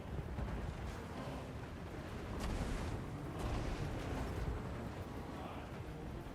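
Cannon fire from a Total War: Warhammer 2 battle rumbles through a low, dense backdrop, with a couple of sharp booms standing out near the middle over continuous distant battle noise.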